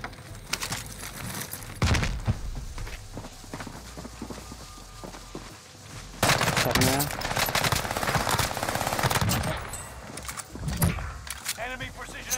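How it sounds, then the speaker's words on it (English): Video game gunfire during a 2v2 kill race wager with Armaguerra 43 and UGM-8 weapons: loud, near-continuous bursts of automatic fire and rattling shots mixed with footsteps and game effects, with voices talking over it. "I'm getting shot at by someone else"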